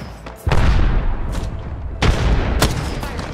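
Frag grenade blasts in an Apex Legends firefight, with loud booming impacts near 0.5, 2.0 and 2.6 seconds over continuous gunfire and rumbling battle noise.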